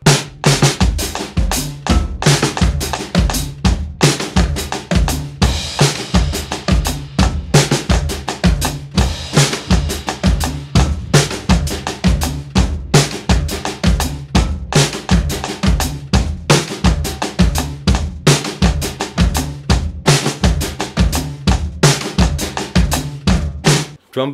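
A five-beat riff, played as a repeating rhythmic figure with drums and band, loud and steady, with dense pulsing hits cycling through the whole stretch and no voices.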